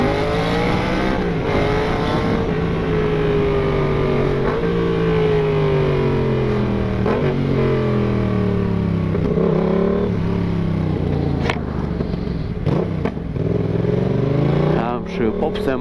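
Yamaha MT-07 motorcycle with a new aftermarket exhaust, revving close by in repeated rising and falling sweeps, loud and continuous, ending with sharper pops as the throttle is snapped.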